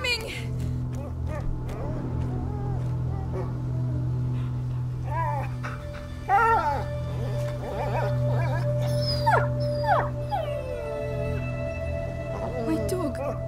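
A dog in the video game A Plague Tale: Innocence howls and whimpers in rising, wavering cries over a low steady drone, loud and close, with the dog's calls carrying through most of the scene.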